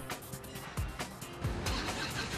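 A Harley-Davidson motorcycle engine revs hard on a rolling road test rig inside a closed room, a loud, dense roar with a few sharp throttle blips rising over a steady mechanical drone.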